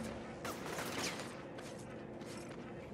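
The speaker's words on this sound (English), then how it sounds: "Right, who's shooting me?" Gunfire from the inFamous video game rattles in a dense, steady barrage with a brief louder burst near the start, the shots blurred into continuous clatter at moderate loudness.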